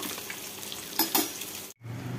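Fish fries in a pan with a steady close sizzle and a couple of brief utensil clinks partway through. The sizzle stops abruptly near the end, then comes back quieter and muffled.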